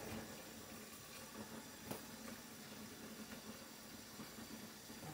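Running water from a tap rinses a freshly dyed tie-dye T-shirt, a steady even splashing hiss throughout with one brief knock, close and alone.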